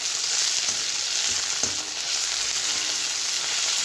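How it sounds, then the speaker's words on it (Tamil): Spinach chutney mixture being stirred after salt is added, a steady broad sizzle with faint scraping of a spoon, close and continuous without speech. "உப்பு சேர்த்துட்டு நல்லா கலந்து விட்டுக்கலாம்"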